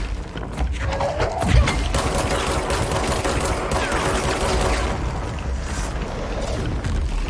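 Sustained heavy gunfire from the game Control, a dense continuous roar of rapid shots with booms and impacts underneath, loud and unbroken.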